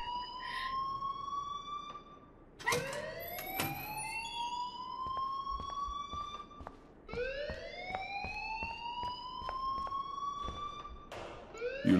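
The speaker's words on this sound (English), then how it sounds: "please turn off that alarm since that's your job" Electronic alarm in the Life is Strange video game, rising whooping sweeps repeating every few seconds, loud and continuous with a brief break, no speech over it.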